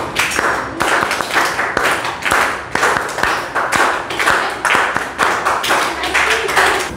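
A classroom of students claps together in welcome, repeating short rhythmic bursts of sharp hand claps at a regular pace, close and loud with no talk.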